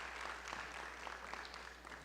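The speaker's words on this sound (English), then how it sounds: "yep, you can clap for him" Faint, steady applause from an audience at a school district board meeting, honoring a high school sophomore, a continuous patter of clapping heard from a distance in a large room.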